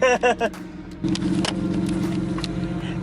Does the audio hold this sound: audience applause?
no